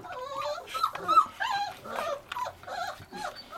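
Bully Kutta puppy making high, wavering whimpers and yips at close range while being hand-fed during weaning, a steady run of short plaintive cries with a few low growly edges.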